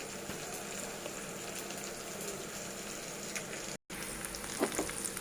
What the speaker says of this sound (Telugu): ఇప్పుడు దీన్ని పోపులో వేసేసి కలిపేసుకోవడమే